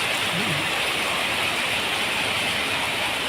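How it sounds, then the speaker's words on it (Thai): Steady rain pours down in a constant, even hiss, close and fairly loud, with no other sounds standing out. "บรรยากาศฝนตกนะครับ"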